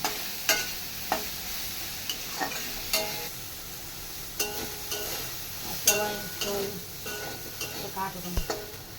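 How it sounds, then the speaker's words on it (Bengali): Soybean chunks frying with turmeric in oil in a wok, a steady low sizzle broken by repeated scraping stir strokes from a spatula, close up with no talking. "একটু হলুদ দিয়ে দিলাম, লাল লাল করে ভেজে নেব।"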